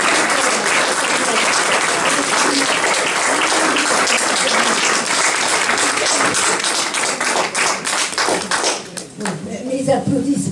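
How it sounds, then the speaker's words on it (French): A large audience breaks into loud, sustained applause, dense clapping that stays full for most of the stretch before thinning toward the end. "Les applaudissements vont aussi"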